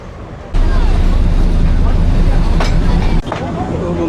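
A Bangladesh local train rolls on toward Shyampur, heard loud from inside the carriage as a heavy rumble with wheel clatter that surges abruptly early on and dips briefly near the end.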